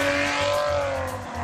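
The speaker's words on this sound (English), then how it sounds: "They spent a lot of time laboring over the exhaust note in this car." A 2014 Maserati Ghibli accelerating, its engine exhaust note rising as a steady, loud tonal drone with a low rumble beneath, close and continuous with no talk.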